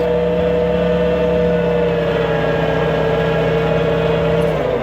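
A 1954 Willys Jeep engine drones steadily and loudly while the Jeep drives through soft sugar sand off-road, a constant engine hum with no pauses or talk.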